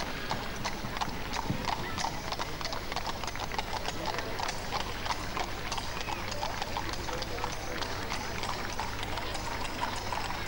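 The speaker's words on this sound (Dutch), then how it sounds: "De Friese Paardenras is vandaag ook hier weer sterk vertegenwoordigd." Friesian horses' hooves clip-clop steadily on pavement at a horse-drawn carriage parade in Heerlen, a continuous busy clatter of many hoofbeats under crowd noise and a voice talking over a loudspeaker.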